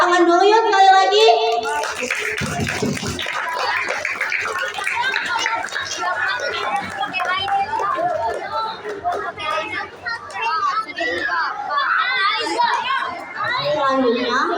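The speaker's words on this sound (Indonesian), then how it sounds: "Tepuk tangan dulu ya sekali lagi." A classroom of Indonesian schoolchildren clapping together during a class activity, a short burst of hands mixed with lively children's chatter and a teacher speaking over the group.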